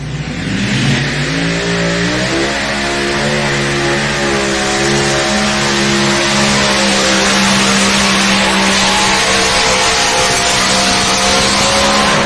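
Modified-class pulling tractor fitted with three engines roars continuously at full, very loud power throughout, a dense layered engine howl with rising pitch and no talk.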